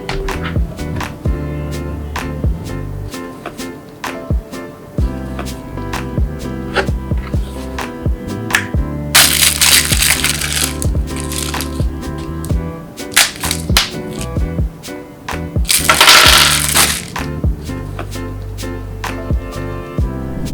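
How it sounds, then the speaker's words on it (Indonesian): Bardi indoor PTZ IP camera being unboxed, close crinkling of packaging with frequent sharp taps and clicks, two longer bursts of tearing or rustling plastic, over a steady background music track. "Jadi barusan tadi kita udah unboxing IP kamera indoor ini"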